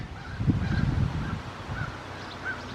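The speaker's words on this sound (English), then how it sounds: "And I like listening to the birds." Geese honk repeatedly at a moderate distance, a few calls spaced apart over a low rumbling background.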